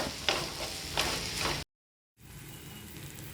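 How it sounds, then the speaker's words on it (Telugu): Grated coconut fries in hot oil in a pan for aloo curry, giving a steady close sizzle with scraping stir strokes; the sound cuts out briefly, then a quieter sizzle continues. "కొబ్బరి కూడా కొద్దిగా పచ్చి వాసన పోయేంత మనకు వేయించుకుందాం"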